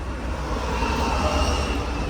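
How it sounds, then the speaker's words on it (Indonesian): Odd-sounding diesel engine of the ALS 388 intercity bus, exposed with its cover open, droning steadily and loudly close by for two seconds with no talk. "kita dengarkan suara mesinnya karena suaranya agak aneh gitu loh"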